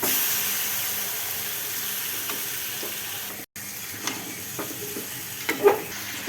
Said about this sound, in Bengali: পেঁয়াজ ভাজা হয়ে গেছে, এখন চিকেনটা দিয়ে দেব।